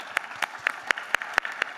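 Applause at the TAS2015 conference comes as a short run of even, evenly spaced claps. They are fairly faint and sound like a small number of hands keeping a steady beat.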